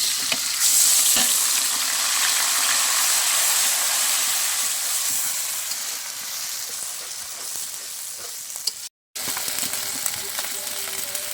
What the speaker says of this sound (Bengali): এবারে মশলাগুলো দিয়ে ভালো করে কষিয়ে নেব।